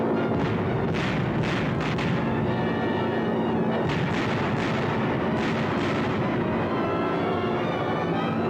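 Bombs exploding during a B-24 bombing raid on Pantelleria, a continuous rumbling barrage of deep booms with sharper blasts, loud and unbroken for the whole stretch.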